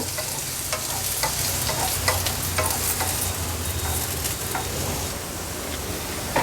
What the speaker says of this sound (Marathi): अर्धवट शिजवलेल्या सुरणाच्या फोडी आपण पॅनमध्ये घालणार आहोत अगदी थोड्याशा परतून घ्यायच्या आहेत हाय फ्लेम ठेवायची आहे गॅसची